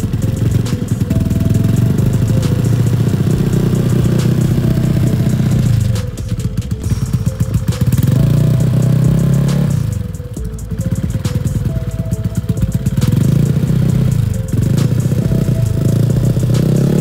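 A Honda Vario 150 scooter engine runs steadily and loud throughout, with brief dips and some clattering mechanical noise around the middle, suggesting light throttle changes rather than a pure idle.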